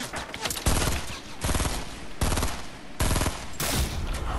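Rapid bursts of gunfire from shooting at enemies in the Fortnite video game, loud and close, several dense volleys crackling back to back with short gaps between them.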